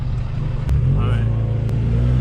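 Ford Mustang EcoBoost accelerating through the gears, a steady low engine rumble heard from inside the cabin with short breaks at the shifts and someone talking over it.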